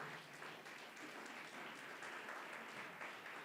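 Applause from a congregation at a Christian spirit conference, a steady dense wash of clapping that holds evenly throughout at a moderate distance.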